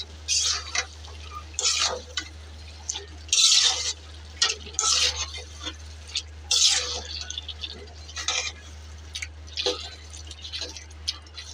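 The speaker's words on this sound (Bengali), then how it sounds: "এখন নাড়া দিব, একটু কিছুক্ষণ রাখবো" Dried kachki fish bhuna is stirred in a pan, with a series of soft scraping, squishy spatula strokes repeating at an irregular pace over a steady low hum.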